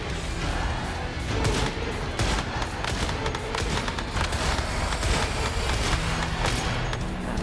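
Dense, continuous gunfire in the survival shooter game Once Human, a steady stream of loud close shots with repeated sharp bursts running the whole stretch, no voices over it.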